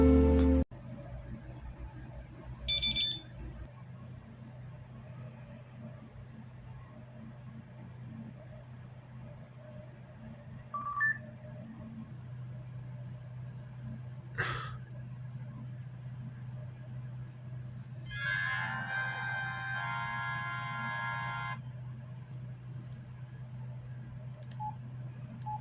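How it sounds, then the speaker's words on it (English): Beeping tones and short jingles from 2000s cell phones shutting down and starting up ring out in separate bursts over a steady low hum, mostly quiet between them. "Some of them have pretty interesting shutdown noises too."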